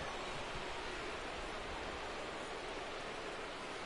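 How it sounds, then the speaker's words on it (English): Steady rain hisses over a baseball field in a Pirates versus Dodgers game, a dense, even wash of drops with no breaks, moderately close and fairly faint. "the field's not going to be able to hold up if the rain gets any worse than this"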